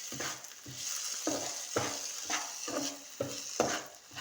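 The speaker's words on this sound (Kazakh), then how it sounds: "Ең алдымен күрішімізді қуырып алатын боламыз майға." Rice stirred and fried in oil in a pan, with repeated scraping strokes of a utensil about every half second over a steady close sizzle; no talking.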